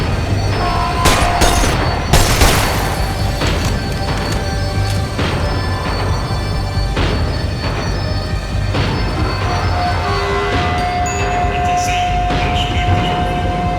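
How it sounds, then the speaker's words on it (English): A tram slows down in Max Payne 3, giving a dense, loud rumble of rails with metallic clanks, thuds and squealing wheels, plus booming gunfire-like hits early on, continuous throughout. "The tram was slowing down"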